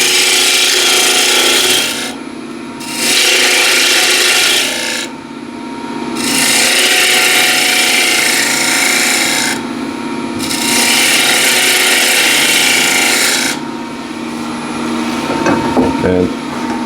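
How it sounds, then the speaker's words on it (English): A spindle gouge cuts wood spinning on a lathe, a loud, rough scraping hiss in long sustained passes separated by short pauses, with the lathe humming steadily underneath. "Again, spindle gouge."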